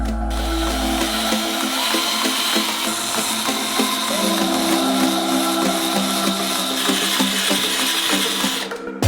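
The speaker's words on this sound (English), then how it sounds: "Now insert a whisk into the screwdriver, and with a help, mix the 2 components well together" A cordless screwdriver fitted with a whisk mixes two liquid silicone components, about 40 grams, giving a steady close-up mechanical whirring and rattling that runs without a break and without any talking.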